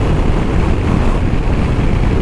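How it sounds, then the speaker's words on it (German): Loud, steady wind roar buffets the microphone while riding a Husqvarna Norden 901 adventure motorcycle at moderate speed, a dense low rumble running continuously without a break. "Windgeräusche, das merkt ihr schon, sind ziemlich groß, obwohl wir hier noch moderat unterwegs sind"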